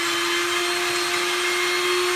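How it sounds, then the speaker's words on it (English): A kitchen blender runs continuously while blending a sauce, giving a loud, steady whirring whine with a constant high hiss and no pauses, close up and alone. "we're just gonna pulse it a little bit to get it started, and then you're gonna actually wanna blend it until it's nice and smooth."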